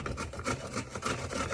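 An apple rubbed against a hand grater for charoset, a steady rasping scrape in quick back-and-forth strokes, close and fairly quiet, no voices.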